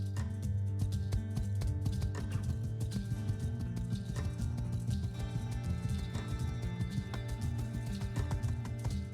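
Horse hooves clip-clopping at a steady gallop in the farming life game My Time at Sandrock, a continuous rhythmic beat over a constant music bed, with no talk.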